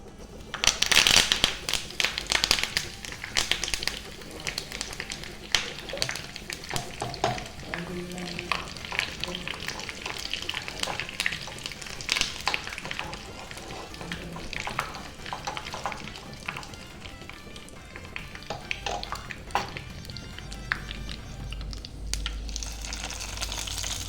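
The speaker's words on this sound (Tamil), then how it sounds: "கடுகு நல்லா வெடிக்க வெடித்த பிறகு போட்டுக்கணும்" Continuous sizzling and crackling of mustard seeds and curry leaves frying in hot oil, with scattered sharp pops and occasional stirring scrapes, close up.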